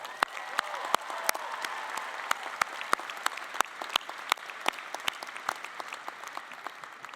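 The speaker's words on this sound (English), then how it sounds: "Let's give them a round of applause." Applause from a commencement audience at Tulane University, a dense, steady wash of clapping with sharp individual claps popping out near the front.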